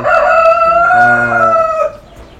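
A Brahma rooster crows once, loud and close, a long drawn-out call that fades away at the end.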